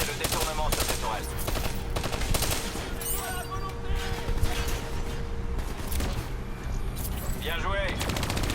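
Turret machine gun fire in Call of Duty Black Ops III: loud, rapid automatic bursts and continuous rattling shots, mixed with game effects and a voice speaking over the combat.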